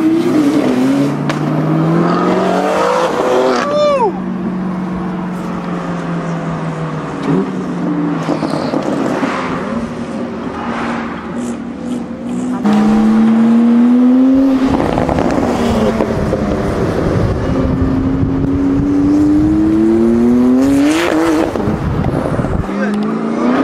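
800hp BMW G80 M3 and Toyota Supra street drifting: loud, close engines rev and wail in rising and falling sweeps with tire noise, continuous throughout, with voices shouting over them.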